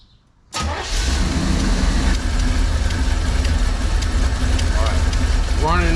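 A 1988 Chevrolet Camaro IROC with a TPI engine and a stalling fault cranks and fires after a brief quiet moment, then settles into a loud, steady idle with a low rumble and some whining tones.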